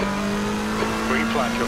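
A race car locking its front tyres under braking into turn 4 at Barcelona in a racing video game, a steady engine tone with a brief tyre squeal, short and close under a radio voice.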